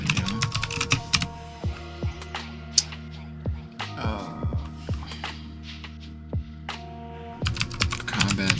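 Keys clatter in short bursts on a computer keyboard at a game developer's desk, quick irregular taps mixed with someone talking and some tonal game sounds.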